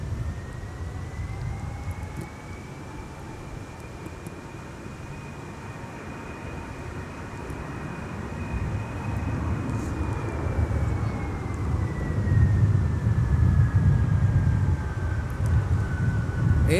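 A Delta A330-200 widebody taxiing at Minneapolis–St. Paul airport, bound for London Heathrow, gives off a steady jet-engine whine and broad roar. The noise holds at a moderate distance, then swells a little louder toward the end, with no talk.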